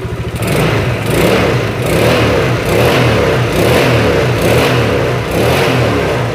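A small Yamaha Mio motor scooter engine with a replacement PE28 carburetor revs loudly and repeatedly up close, the throttle rising and falling in a steady rhythm with no talking.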